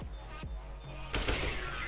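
Video game gunfire rings out in a few quick, loud cracks, followed by a denser burst of rapid shots, close and dominant with no talking.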